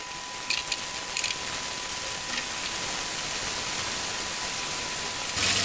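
Coated KFC-style chicken strips deep fry in hot oil, making a steady, dense, even hiss that fills the whole stretch at a constant level, with a slight rise at the very end and no speech.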